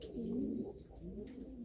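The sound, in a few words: pigeons cooing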